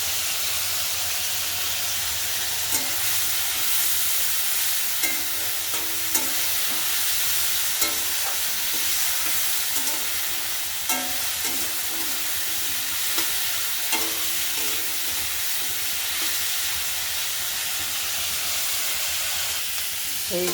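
Salt and turmeric being stir-fried with spices in a pan, a steady sizzle with repeated scraping strokes of a spatula running throughout, close and fairly loud.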